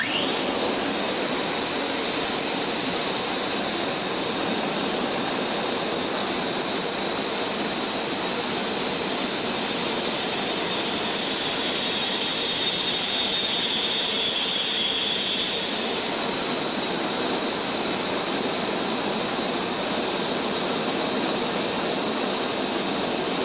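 An EGO 650 CFM battery leaf blower running on turbo gives a loud, steady, jet-like whoosh with a high whine, constant and close for the whole stretch.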